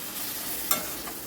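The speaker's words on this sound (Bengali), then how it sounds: "আবার একটু নাড়াচাড়া করে দিলাম।" Spice masala for mutton stirred and fried in oil in a pan, a brief close hiss of sizzling with one sharper scrape of the spoon partway through.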